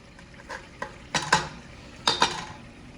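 Gravy cooking in a pan is stirred with a spoon, giving several scraping clinks and short bursts of sizzle that come in small clusters over a low frying hiss. No one speaks.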